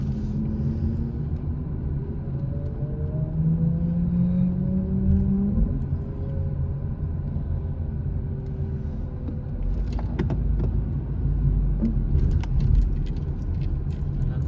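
A car drives through downtown Oakville, its steady engine and road rumble heard from inside the cabin, with faint rising tones as it accelerates and small rattles and jingles along the way.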